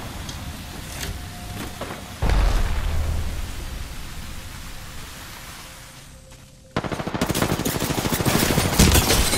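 Bursts of rapid gunfire from a video game shootout, loud and dense at first, then quieter, then returning as a sharp, fast rattling volley near the end.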